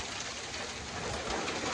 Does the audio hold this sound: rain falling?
yes